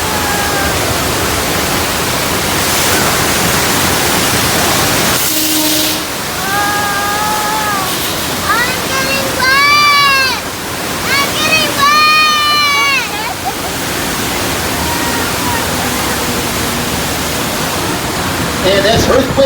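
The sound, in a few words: rushing water on Universal Studios ride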